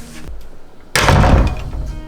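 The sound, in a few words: door closing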